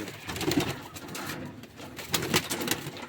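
Domestic pigeons coo softly in a loft, low murmuring calls rising and falling over a steady noisy background, with no speech.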